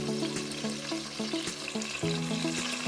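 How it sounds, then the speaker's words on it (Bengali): Katla fish pieces frying in very hot oil over a high gas flame, a steady close hiss and bubbling sizzle with small repeated pops and spatters, no voices. "তেল গরম হয়ে গেছে, তাই মাছগুলোকে একে একে গরম তেলে ছেড়ে দিচ্ছি।"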